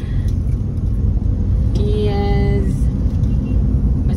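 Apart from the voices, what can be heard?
heavy road traffic, cars at an intersection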